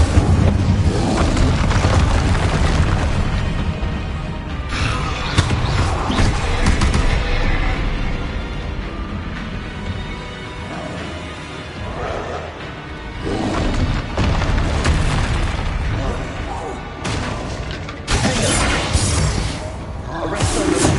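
Loud, dense spell blasts in the Hogwarts Legacy video game: repeated booming explosions and roaring bursts crowd together with hardly a pause, with some game voices in the mix.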